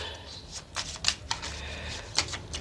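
Tarot cards are shuffled by hand in a few quick, crisp riffling bursts close by, with a low voice in the background.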